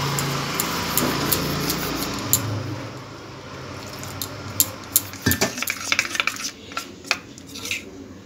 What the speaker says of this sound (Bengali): এবারে জল দিয়ে আমি ব্যাটারটা বানিয়ে নিচ্ছি